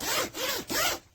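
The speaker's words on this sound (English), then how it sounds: "Has a chunky zipper that is" A chunky zipper on a men's waterproof winter ski jacket is pulled in three quick, close strokes, each a smooth ratcheting rasp, followed by a brief quiet.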